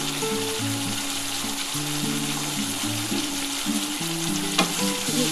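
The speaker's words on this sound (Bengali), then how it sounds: "একটু নাড়াচাড়া করে নিলাম।" Red chili frying in hot oil in a pan for a mustard fish curry, with a steady loud sizzle and occasional scraping stirs throughout, no talking.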